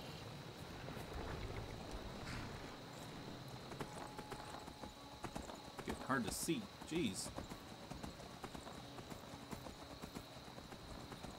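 Horse hooves clip-clop steadily in the Skyrim video game, a soft repeated gait under low wind ambience, with a person speaking briefly over it.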